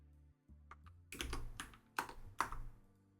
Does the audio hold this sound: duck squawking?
no